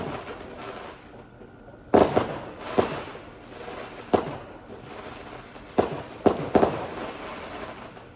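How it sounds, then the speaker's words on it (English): Scattered fireworks explosions pop and boom every second or so against a low background rumble, sharp and moderately close, with no one speaking. "I love fireworks, by the way."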